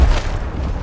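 A frag grenade explodes in Gears Tactics, a loud, deep, close boom with a heavy low rumble that rolls on briefly after the initial blast.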